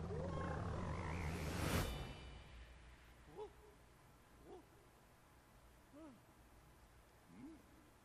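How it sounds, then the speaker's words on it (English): Frog croaks from the Super Mario Odyssey video game, a few short gulping calls spaced a second or so apart after a loud burst of game sound, fairly faint against a quiet game backdrop. "You captured a frog"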